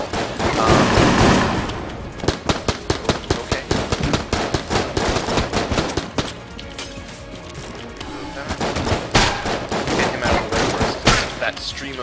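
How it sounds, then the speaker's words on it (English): A steady stream of bullets firing in the video game Enter the Gungeon, loud rapid rattling bursts with crashes, continuous over twelve seconds with a brief lull midway. "That stream of bullets is something I really don't want to deal with."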